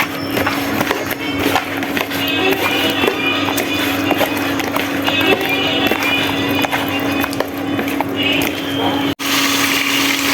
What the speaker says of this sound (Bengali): মাছগুলি ভালোভাবে ভেজে নিচ্ছি।